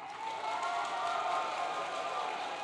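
A distant audience at a public event gives a sustained round of applause, a dense, soft wash of clapping with faint cheering that holds steady for a few seconds.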